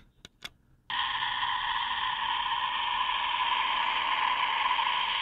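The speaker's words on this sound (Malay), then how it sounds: "Ni bunyi orang bersorak lah, senang kata." After a couple of button clicks, a steady wash of recorded crowd cheering plays continuously from a toy WWE Raw microphone, with a thin, tinny quality like playback through a small toy speaker.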